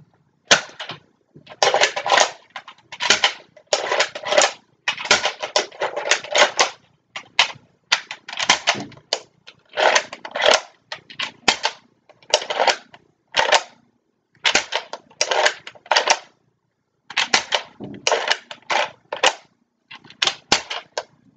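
Rapid bursts of sharp snapping clicks from an Adventure Force Alpha Rogue toy dart blaster being fired over and over, loud and close, in clustered volleys separated by short pauses.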